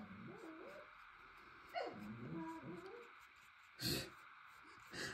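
A Shih Tzu whimpers faintly in wavering, high-pitched whines, broken by a couple of short, sharp yips or barks, quiet and close in an otherwise calm room.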